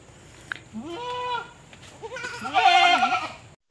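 A thin goat bleats twice in quick succession, the second call louder and more strained, close to the recorder with faint background noise.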